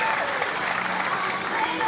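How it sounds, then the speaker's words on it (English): Spectators at a professional golf tournament applaud in a steady, continuous round of clapping that is moderately loud throughout, with a faint voice speaking over it. "let's give a big round of applause for Team Text"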